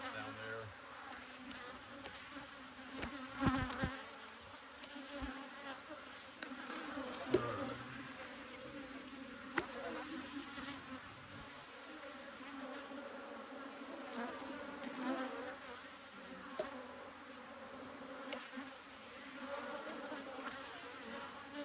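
Honey bees buzz steadily around beehives fitted with supers in an apiary, a dense continuous hum close by with a few louder passes of individual bees.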